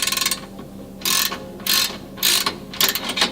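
Ratchet wrench clicking in short bursts while tightening a nut on a Nissan 370Z SPL billet rear camber arm, several quick rasping strokes separated by brief pauses, close and clear.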